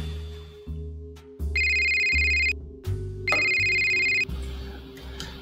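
A telephone rings with an electronic ringtone, two loud bursts of trilling tones over a low melodic background, heard clearly with no talking.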